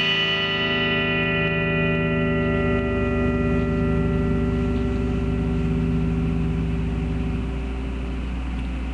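Fender Vintage '52 American Telecaster electric guitar on its neck pickup, a sustained chord ringing out continuously with a warm, effected tone and slight reverb, close and fairly loud, with no talking.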